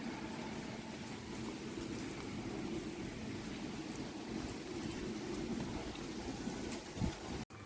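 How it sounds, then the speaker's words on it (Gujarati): Light rain falls outdoors in a village setting, a steady soft wash of patter that stays even and fairly faint throughout, with a brief bump near the end. "જુઓ વરસાદ આવી રહ્યો છે થોડો થોડો."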